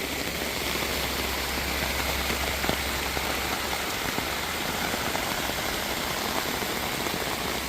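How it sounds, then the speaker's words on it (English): Steady, dense rain pours down in a continuous hiss during an Arkansas tornado storm, with a low engine-like rumble underneath and no voices. "She's raining hard now."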